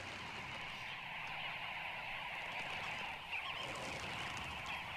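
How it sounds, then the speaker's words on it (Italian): A dense, continuous din of dozens of birds calling at once at an African waterhole, a busy chattering flock heard steadily throughout. "Il trambusto di rumore e movimento di decine di uccelli che vanno e vengono"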